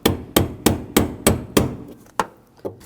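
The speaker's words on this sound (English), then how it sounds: "If you have the tool, use the tool. Otherwise, just use the brass punch." Hammer blows drive a brass punch against the lock ring of the left fuel pump module on a 2007-2013 BMW 328i 3.0L inline-six: about eight sharp, close metallic taps, evenly spaced at first, then slower and lighter.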